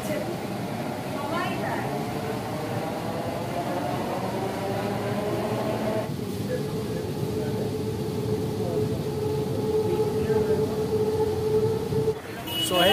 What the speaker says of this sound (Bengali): আমি এখন আছি শিয়ালদা মেট্রো স্টেশনের ভিতরে